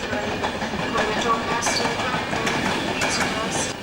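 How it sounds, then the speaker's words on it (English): A train rumbles and clatters steadily along as it approaches a station platform, with occasional high squeals from the wheels and faint background voices. "GNR service to London King's Cross is approaching platform"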